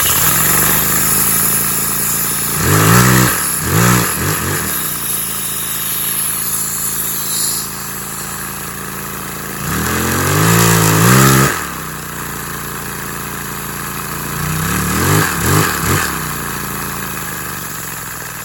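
A LEGO engine driven by a vacuum cleaner, sealed with a LEGO tire, gives a loud continuous whine and hum, with three rattling surges as it speeds up.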